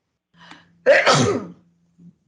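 A single sharp sneeze, close and loud, preceded by a brief inhale and followed by a short faint sound.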